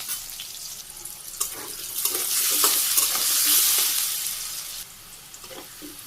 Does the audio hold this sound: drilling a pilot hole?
no